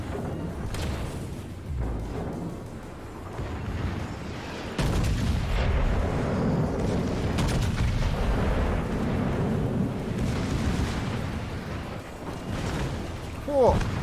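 Naval guns fire at a burning ship in World of Warships, giving heavy booming blasts and a rumbling wash of battle noise, with voices talking over it.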